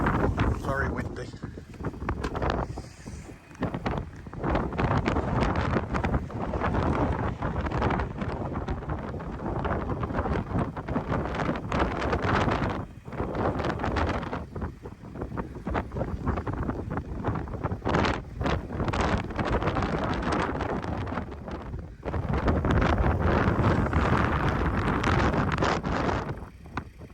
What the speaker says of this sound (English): Wow, it's windy out there.